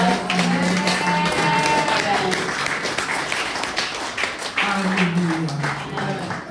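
A congregation at a bilingual French and English church service applauds, broad steady clapping that carries on while a voice speaks over it and a faint tonal hum lingers underneath.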